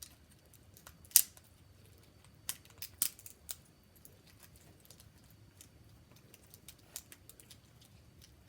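Kitchen scissors snip through a seafood shell in a few sharp, crisp cuts spaced a second or two apart, fairly quiet over a hushed room with no talking.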